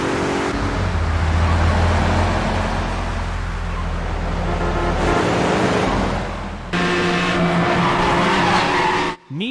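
Cars drive with squealing, skidding tires in an open-world racing video game, with a steady engine roar and long sustained tire screeches that shift in pitch before cutting off abruptly at the end.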